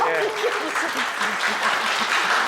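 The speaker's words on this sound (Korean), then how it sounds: "자, 박수 한번 주세요, 우리." A small group at a store gives a round of applause, with soft, continuous clapping under a voice talking throughout.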